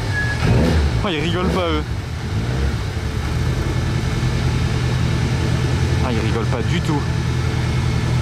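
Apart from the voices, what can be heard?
Lancia race cars arriving, engines running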